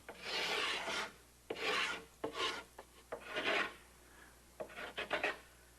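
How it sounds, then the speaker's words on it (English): Beveling the bottom edge of a wooden boat transom to match the keelson angle, heard as a series of near, loud rasping strokes with brief pauses between them. "Now I want to bevel the entire bottom edge of the transom so that it's at the same angle as the keelson."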